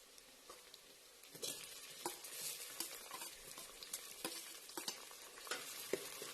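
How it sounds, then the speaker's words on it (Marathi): Onion and tomato frying in oil for Kolhapuri misal, a soft continuous sizzle with irregular stirring scrapes and light taps of the spoon, close but quiet. "कांदा भाजत आलेला आहे, त्याच्यामध्ये आपण टोमॅटो घालूया."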